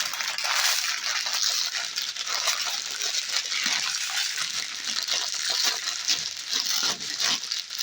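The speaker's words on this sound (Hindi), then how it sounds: "ये हमने 1 पैकेट सेवइयाँ लिए, इसको हमें इस तरीके से तोड़ देंगे" Seviyan (vermicelli) from a packet snapped and crushed by hand, a dense run of dry crackling and rustling that holds steady and close throughout, with no voices.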